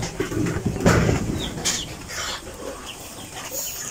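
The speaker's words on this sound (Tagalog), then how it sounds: "Tingnan po natin ang ating sisiw." Day-two broiler chicks in a brooding pen, a scatter of close, high peeps and small clucking calls over a faint room hiss, no talking.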